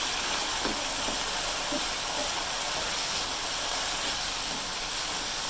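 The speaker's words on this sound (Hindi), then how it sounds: "दो से 3 मिनट के लिए इसको फ्राई करेंगे।" Potatoes and chopped capsicum frying together in a pan for a curry, giving a steady, loud, close sizzling hiss that runs unbroken for the whole stretch with no talking.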